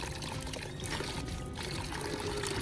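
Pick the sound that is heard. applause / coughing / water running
water running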